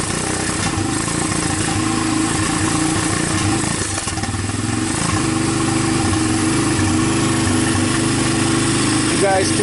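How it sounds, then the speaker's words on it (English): A Honda TRX300EX ATV engine, once seized with no spark and now running off a jump pack with only a carburetor's worth of fuel, idles steadily and close by in a continuous throbbing drone. A voice talks over it throughout. "You guys can see it starts, it runs."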